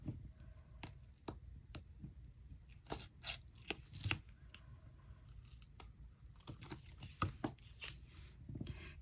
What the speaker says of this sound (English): So let's just take the score tape off.